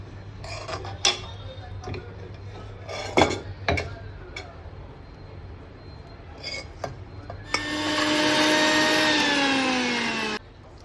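Mixer grinder running in a home kitchen, a loud steady whirring roar that starts abruptly near the end and holds for a few seconds, after clinking of dishes and utensils with some talk before it.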